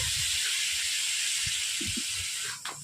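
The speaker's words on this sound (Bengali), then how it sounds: "কড়াইতে বসে আছে, তার জন্য আমি অল্প করে জল দিয়ে দিচ্ছি" A hot karahi of frying cauliflower and potatoes gives a continuous close hiss of steam and sizzle after a little water is added, with a few soft knocks near the end.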